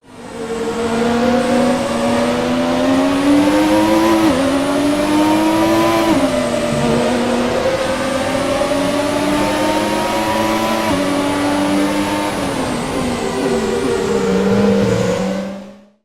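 A loud, high-pitched classic Formula 1 engine in the video game F1 2017 roars continuously, pitch climbing and dropping through gear changes, then cuts off abruptly at the end.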